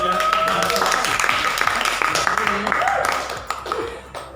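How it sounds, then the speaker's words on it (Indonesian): Students in a physics classroom clap for a group, a lively burst of hand-claps with voices and a little laughter mixed in, tapering off at the end. "Kita kasih tepuk tangan dulu"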